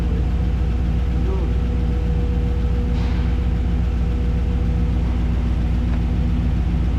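Hand-built engine in a Boggs car held at a steady, loud mid-pitched rev with a constant droning tone throughout, no pauses.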